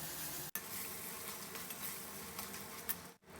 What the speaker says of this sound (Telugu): ఇప్పుడు ఇందులో ఒక హాఫ్ స్పూన్ అల్లం వెల్లుల్లి పేస్ట్ వేసుకుని ఒక్కసారి విధంగా వేయించుకుందాము